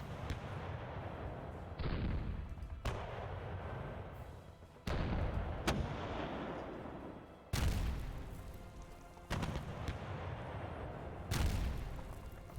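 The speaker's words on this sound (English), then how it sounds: "we do take some fire from the coastal defense gun" A coastal defense gun fires repeatedly in a Kyushu assault war game set in Japan, 1945, with heavy booming blasts landing at irregular intervals of a second or two, each with a long rumbling tail, loud and close with no talking.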